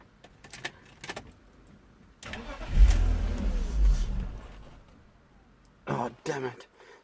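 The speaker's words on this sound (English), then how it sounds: "So I'm gonna start the engine." A BMW 323i engine cranks and catches, rumbling for a couple of seconds before settling, with light clicks and jangling before and brief rattles after.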